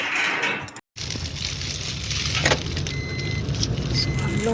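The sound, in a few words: car arriving outside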